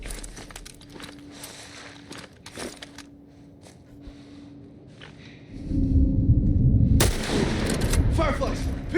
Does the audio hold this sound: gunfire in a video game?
yes